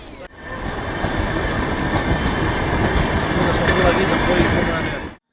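The Sumy-Odesa summer passenger train departs from Sumy, a steady loud rumble of rolling wheels and clattering cars that holds evenly for several seconds before cutting off, with faint squeals over it.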